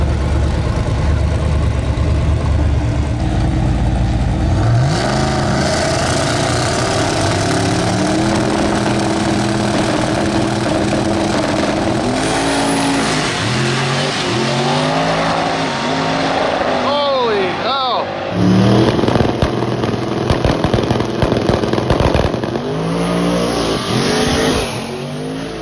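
Drag racing cars at a Christmas tree drag race, including a black Mustang, rev loudly and accelerate in repeated rising engine sweeps, with a crowd murmuring under the steady roar.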